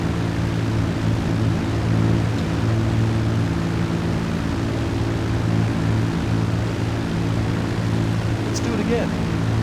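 A Titan aircraft flying in GTA V, with a steady low droning engine hum and a constant whooshing wash that stays even and loud the whole time.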